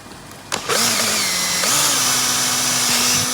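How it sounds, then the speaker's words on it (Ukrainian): A cordless screwdriver drills two holes, its motor whining up sharply, running steadily, then dipping and rising again for the second hole, loud and close with no talking. "Беремо шурика."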